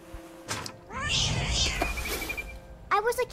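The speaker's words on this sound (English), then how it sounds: "I was a cat." A cat meows in the video game What Remains of Edith Finch, with a couple of short mews followed by a longer, drawn-out meow and a final quick cry, heard clearly and close by.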